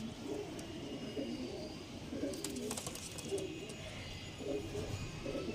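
Soft, repeated cooing of Andhra pigeons over a steady outdoor background hum, with a few faint chirps mixed in.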